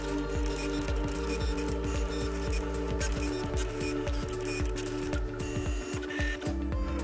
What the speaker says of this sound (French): La machine procède au dessin de la carte.